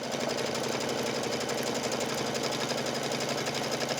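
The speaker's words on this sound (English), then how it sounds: "It's going to stitch completely around the design in a square." A sewing machine stitches around a couched pillow design, a continuous fast rhythmic whir and chatter at steady volume, close and alone throughout.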